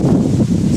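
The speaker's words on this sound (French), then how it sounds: "mais il y a le vent qui se lève," Wind rising outdoors at a riding stable, buffeting the microphone with a steady low roar and rustle throughout, loud and close.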